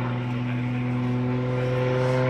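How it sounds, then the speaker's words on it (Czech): An aerobatic propeller airplane flies at an air show in Sokoleč, its engine a steady, loud, droning hum with strong harmonic tones that holds unbroken throughout. "Podívejte se, jaký výkon musí mít i ten motor, aby to letadlo to vůbec dokázalo."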